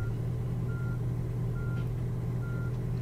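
A tour bus in Tourist Bus Simulator reverses slowly, its backup alarm giving three evenly spaced beeps over a steady low engine rumble.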